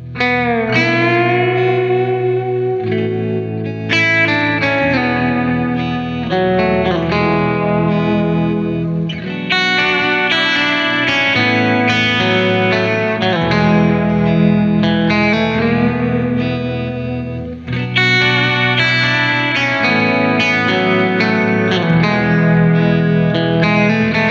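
A hollow body electric guitar plays chords and melodic lines through heavy effects, with distortion, chorus and echo giving a thick, swirling sound that continues without talking.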